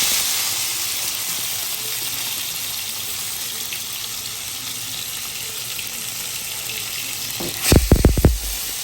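Chopped tomatoes frying in hot oil spiced with green chilli, cinnamon and cardamom for street-style ghugni, a steady loud hiss and sizzle throughout, ending in a few sharp utensil knocks.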